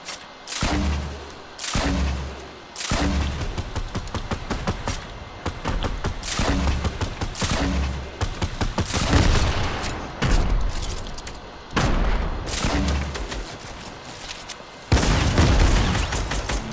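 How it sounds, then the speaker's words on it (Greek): Rapid bursts of gunfire and heavy grenade explosions in a Fortnite match, loud and dense, with repeated booming blasts and fusillades filling the scene almost continuously. "Ρίχνω, ρίχνω grenades."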